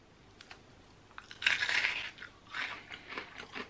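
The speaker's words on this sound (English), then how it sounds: "listen to the crunch." Someone bites into a light, flaky chocolate candy bar at close range, giving one sharp crisp crunch followed by several softer crunching chews.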